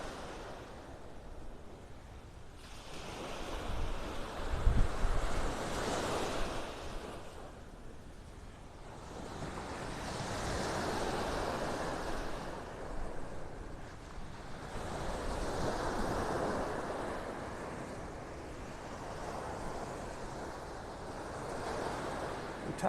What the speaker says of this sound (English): The tide's on its way in.